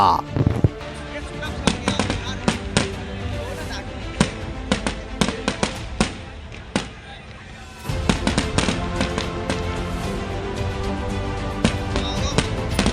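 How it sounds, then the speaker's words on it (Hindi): Firecrackers burst in rapid, irregular sharp cracks and pops during a political road show, close and loud, with a short lull before another dense string of bangs. "पटाखों की आवाज गूंजने का खेल शुरू हुआ"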